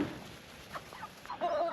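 Meat chickens raised for the table cluck softly nearby in a faint, low murmur, with one slightly louder call near the end and no talking.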